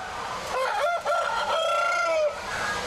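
Chickens cluck and squawk in a dense, close chorus inside a breeding shed, a rooster crow rising above the continuous flock noise.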